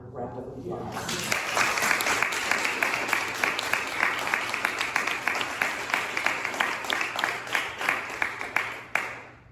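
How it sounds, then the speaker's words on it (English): Audience applause for candidates at a legislative district candidates forum, a loud sustained burst of many hands clapping that thins into scattered claps before ending. "I think they deserve one more round of applause."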